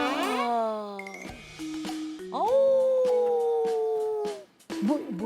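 A person imitates a wolf howl with a series of long, rising and falling drawn-out howling cries, loud and close, followed by a short yelp at the end.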